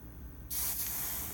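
After a short quiet moment, a sudden sharp hiss bursts out and holds steady as water sizzles on a hot induction heater.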